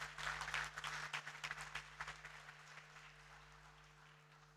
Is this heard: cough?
no